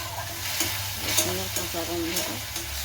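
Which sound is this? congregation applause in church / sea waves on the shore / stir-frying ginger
stir-frying ginger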